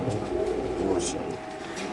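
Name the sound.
racer pigeons cooing at a market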